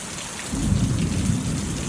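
Rain pours steadily while a low thunder rumble swells in partway through. The storm is heard outdoors by a house with no gutters, so water runs off the roof.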